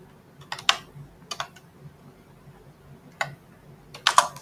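Quiet typing on a computer keyboard: four short clusters of close key clicks separated by pauses, with no voice over them.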